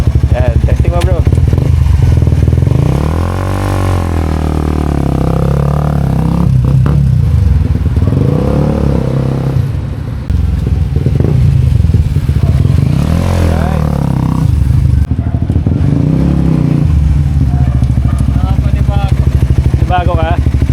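A Suzuki GSX-R150 motorcycle engine runs close by after a new clutch cable is fitted, idling with repeated revs that rise and fall, along with some clatter while people talk over it.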